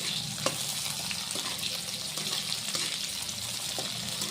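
Chilies frying in hot oil for Gujarati suva bhaji, a continuous dense hiss and crackle at close range with a few faint clicks, steady throughout.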